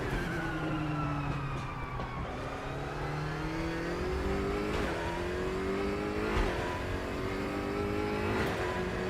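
A BMW DTM race car in the RaceRoom racing game revs hard through the gears, its engine note climbing and dropping with each shift, and a sharp exhaust bang cracks on every upshift, loud and close with no talk.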